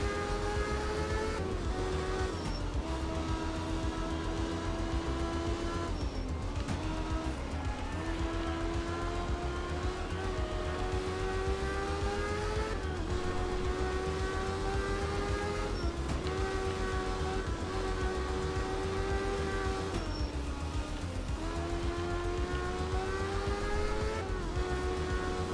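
Rally car engine droning steadily at low revs in art of rally, a Group 3 career race, with pitch climbing and dropping around gear shifts; loud and continuous with no talk.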